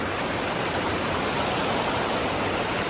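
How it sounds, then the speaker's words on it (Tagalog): Waterfall in Baler, Aurora, with clear, clean water pouring down: a steady, loud, dense rushing roar that holds unchanged throughout, with no voices over it. "ang ganda ng falls dito"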